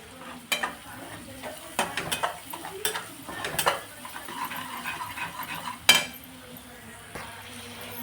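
Onion frying in oil in a pan, stirred with a utensil: a continuous sizzle broken by repeated clinks and scrapes against the pan, one strong knock near the end.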